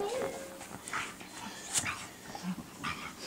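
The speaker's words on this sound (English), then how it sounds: "Growling at each other." Two pet dogs growl at each other up close indoors, a rough, noisy tangle of snarls broken by short whimpers and yips, with a voice faintly underneath.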